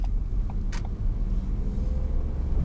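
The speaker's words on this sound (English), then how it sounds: "Off we go, get ourselves moving into first gear." A car pulls away in first gear during a driving lesson, a low steady engine rumble close inside the cabin with a brief click near the start.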